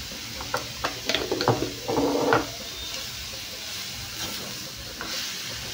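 Soft sizzling of mushrooms stir-frying in a pan, with a few scraping stirs and clinks of a utensil, then a quieter steady hiss.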